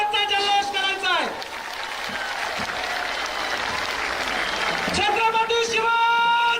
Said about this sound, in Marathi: आपण सगळ्यांनी प्रचंड टाळ्यांचा जल्लोष करायचा आहे